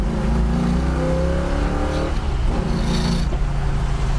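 A 1966 Ford Mustang with a built 302 V8 and a four-barrel carburetor accelerates hard. A deep, loud engine roar climbs in pitch, drops at a gear change, then climbs again, heard from inside the car.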